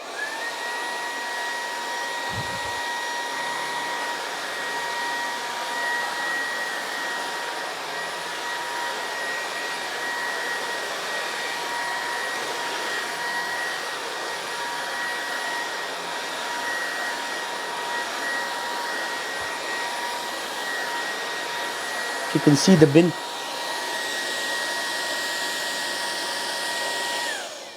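A Hoover H-Free 500 Pets Energy 3-in-1 cordless vacuum cleaner runs on carpet with its brush bar rolling, making a steady, moderately loud motor whine and airflow hum throughout, with a brief bump and a short spoken comment near the end.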